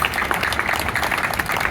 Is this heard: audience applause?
yes